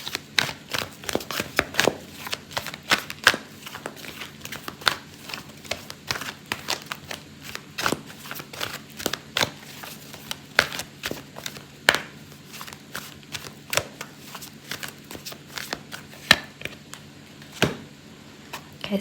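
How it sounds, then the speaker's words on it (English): Tarot cards are shuffled and drawn for a reading, a long, close run of soft riffling slaps and flicks in uneven bursts, with no talk. "I'm going to pull out a card for your advice"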